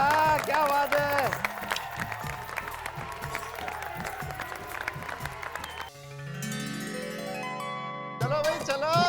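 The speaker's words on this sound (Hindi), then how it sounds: "तालियां। क्या बात है।" Studio audience applause on the Indian sitcom Taarak Mehta Ka Ooltah Chashmah: dense clapping and cheering mixed with music and voices, cut off by a rising musical sting before a brief return of the noise.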